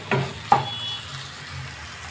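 Chopped vegetables including carrot and tomato frying in a pan for ragi upma, with two sharp stirring clatters early on over a soft, steady sizzle.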